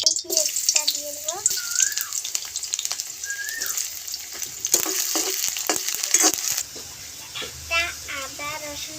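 Onion frying in hot oil in a wok for a chicken dish, a steady crackling sizzle with scraping stirs and clinks, under a few bird-like chirps and background voices.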